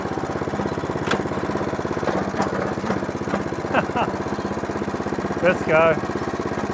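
A rotary hoe engine with a full clutch, unused for eight months, runs steadily with a rapid, even mechanical throb close by, under brief talk, with a few sharp high squeaks near the end.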